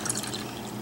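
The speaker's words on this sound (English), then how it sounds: "pour your 1/4 cup of vinegar into the warm milk" Vinegar trickles and splashes as it is poured into warm milk, a short, close liquid sound.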